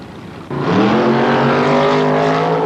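A dragster and a Bantam Roadster with a small block Chevrolet V8 at a drag strip, engines jumping to a loud sustained roar after a brief lower rumble, droning steadily and close.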